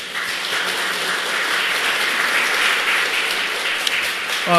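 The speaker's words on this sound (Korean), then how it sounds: "우리 강사 목사님께 고마움의 박수를 표하도록 하겠습니다" A church congregation applauds steadily at a training session for church officers, dense clapping filling the room at an even, sustained level with no pauses.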